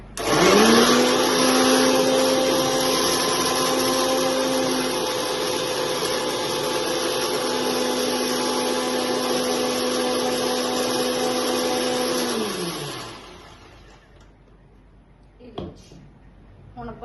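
A mixer grinder with a broken jar lid whirs loudly and steadily blending melon for about twelve seconds, then winds down and stops, followed by a brief clatter.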